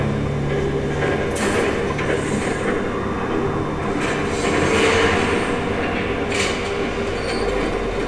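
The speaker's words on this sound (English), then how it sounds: "There's a train coming. Take cover." A train rumbles past in the Telltale Batman video game, a loud continuous roar of wheels on rails with squealing and rattling cars, close and steady throughout.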